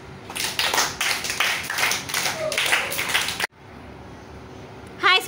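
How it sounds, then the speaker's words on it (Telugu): Children in a classroom clap in a burst of quick, uneven hand claps that fill the first few seconds, then stop abruptly, leaving quieter room noise and a brief high voice at the end. "Very good. క్లాప్స్."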